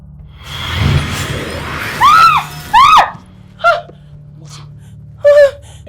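A woman screams several times in short, high, arching bursts over a low background rumble, with shorter sharp cries following after brief gaps.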